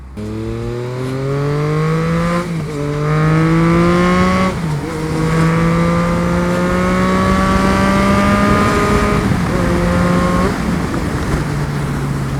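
A 2023 Yamaha MT-09 three-cylinder motorcycle engine revs up hard through several gears in traffic, pitch climbing steadily with brief dips at each shift, loud and close.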